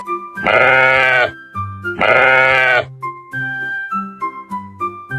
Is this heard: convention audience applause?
no